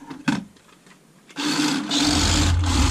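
A small HB Toys 1:24 scale four-wheel-drive RC drift car drifts across a tabletop, its little electric motor whirring steadily and loudly up close after a brief quiet start with a couple of light knocks.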